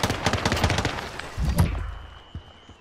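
Rapid bursts of gunfire from the Call of Duty Warzone video game, loud and close, with a brief pause and a second flurry, then a fading tail and one faint late shot.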